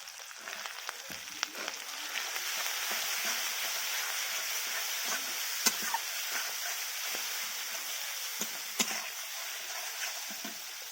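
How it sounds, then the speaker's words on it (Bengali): Masala with chili and turmeric powder fries in a pan for a fish curry in oil, giving a soft continuous sizzle with scattered light scrapes and taps of stirring throughout. "এবার আমি লঙ্কা গুঁড়ো হলুদ গুঁড়োটা দিয়ে দিচ্ছি"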